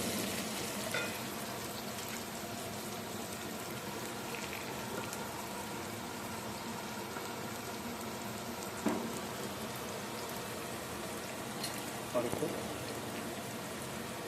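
Softened onions and spices fry in oil for a black chickpea and potato curry, a steady close bubbling crackle with a few brief clinks and stirring knocks scattered through.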